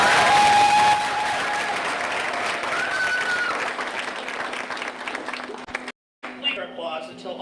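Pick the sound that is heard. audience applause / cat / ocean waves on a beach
audience applause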